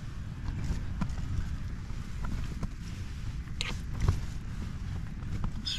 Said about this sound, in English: The tents are getting hammered.